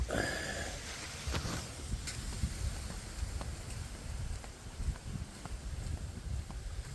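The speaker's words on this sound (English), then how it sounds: "there's a lot of wind" Outdoors, strong wind buffets the microphone in a continuous rumbling roar with gusty swells and scattered clicks, loud and close throughout.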